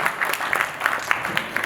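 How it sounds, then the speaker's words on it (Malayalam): Audience applause for Suraj at a film audio launch event for ED (Extra Decent): a short, dense burst of hand clapping from a crowd, steady and fairly loud throughout, with no speech over it. "ഒരിക്കലും കൂടി നല്ലൊരു കയ്യടി കൊടുക്കാം for സുരാജേട്ടൻ"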